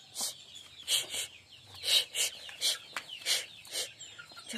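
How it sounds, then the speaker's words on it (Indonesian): A Bangkok fighting chicken clucks in a series of sharp, close, rhythmic calls, each burst separated by short pauses, clear over faint background noise. "Ayam gue ini jahat banget"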